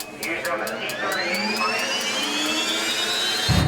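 A jet dragster's jet engine spins up with a rising whine that climbs steadily in pitch, loud and close, ending with a deep rumbling burst as it lights.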